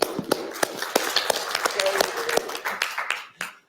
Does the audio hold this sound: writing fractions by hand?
no